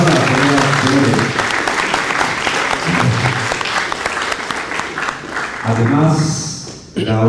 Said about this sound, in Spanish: Los aplausos. Fuerte aplauso,